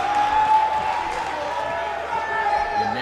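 In a WWE 2K18 video game wrestling match, a steady crowd roar of cheering and clapping runs throughout at moderate loudness, with a faint high whistle-like tone on top.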